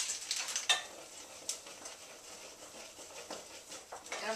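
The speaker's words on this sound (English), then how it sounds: "I'm just going to stir" Toffee mixture being stirred in a pot for homemade Valentine's Day toffee, a soft scraping swish with scattered light clinks of the spoon against the pot, fairly quiet and steady throughout.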